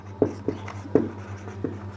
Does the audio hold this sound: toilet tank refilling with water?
no